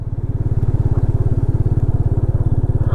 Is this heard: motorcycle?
yes